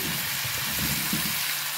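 Seasoned vegetables hitting a pan of browned chicken thighs, giving a steady, close frying sizzle that holds evenly from start to finish with no talk.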